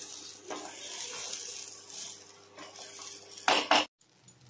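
Rice being stirred and fried with spices in a pot, with a steady low sizzle under repeated scraping and clinking of a metal spoon, close by, ending in a few louder clanks before cutting off.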